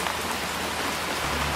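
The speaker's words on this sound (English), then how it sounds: "it looks like it's going to be raining all day today" Rain falls all day on a wet May morning as a steady, even hiss of drops on surfaces. It fills the whole stretch at a constant, moderate loudness with no voices.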